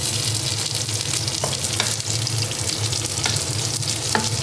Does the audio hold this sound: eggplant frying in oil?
yes